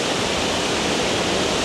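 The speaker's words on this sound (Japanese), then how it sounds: "でっかい波がドーンってきてってなる" Large ocean waves crash and surge over a coral reef edge on Iheya-area Izena Island before a typhoon, a dense continuous roar of churning surf with no break, close and loud.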